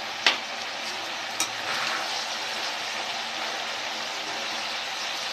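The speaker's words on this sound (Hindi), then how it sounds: "चने को हमने 5 मिनट तक फ्राई किया" Chickpeas fry in a pan with a steady, close hiss of sizzling oil. Two sharp clinks of a utensil come near the start, and no one speaks over it.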